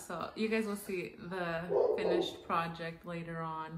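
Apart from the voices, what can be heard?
dog barking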